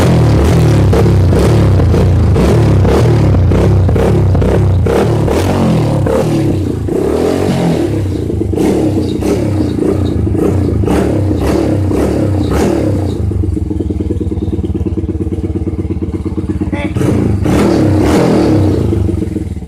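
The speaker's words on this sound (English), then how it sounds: "you got your baffles removed and your bike is a lot more louder" An 80cc dirt bike engine with its exhaust baffles removed revs loudly and close by, sounding like a 450. The revs rise and fall in harsh repeated bursts, then settle into a rough, steady idle.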